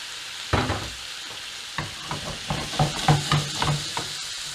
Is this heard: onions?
yes